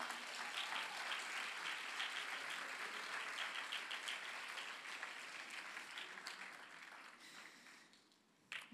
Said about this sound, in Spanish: Yo no sé si tú puedas darle un aplauso al Señor ahí.